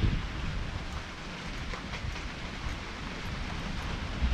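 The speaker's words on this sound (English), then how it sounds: "Ooh, nice cold rain." Steady cold rain falls through a thunderstorm in a canyon, a dense, even hiss of drops close by that holds at constant loudness throughout with no voices.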